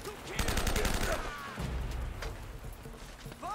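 Gunfire during a firefight in the video game Uncharted: a rapid burst of shots up front, then lingering rumble and scattered impacts at moderate loudness.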